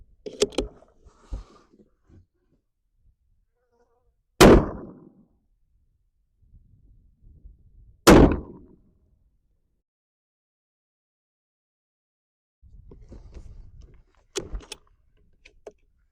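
Two sharp, loud rifle shots from hunting rifles firing Accubond bullets at a box on a long-range target, spaced a few seconds apart, each with a short decaying report, followed by a third more distant shot and faint handling noises.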